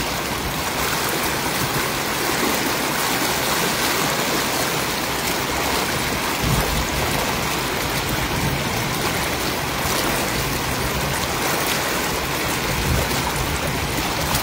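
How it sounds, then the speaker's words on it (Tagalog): Loud, steady rush of fast-flowing river water during net fishing, a continuous broadband roar with no pauses, close by and filling the whole scene. "Lumalakas na yung tubig."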